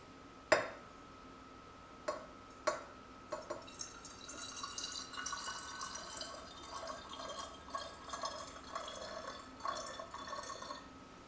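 Water poured from a tap or jug into a container while mixing a vinegar-and-water cleaning spray, a few sharp clinks and drips early on, then a steady, fairly quiet trickling fill.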